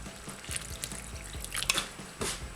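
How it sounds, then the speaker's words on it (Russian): Cold water poured over scalded onion in a home kitchen, heard as close splashing and dripping with irregular wet pattering and small splashes over a couple of seconds. "И теперь ошпаренный лук я заливаю холодной водой."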